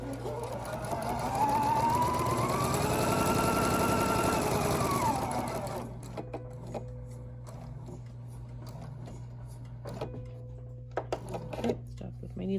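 A sewing machine stitches quilt pieces for a Texas Star quilt: a close, rising and falling motor whine runs for several seconds, then gives way to a low steady hum with light clicks as the needle stops.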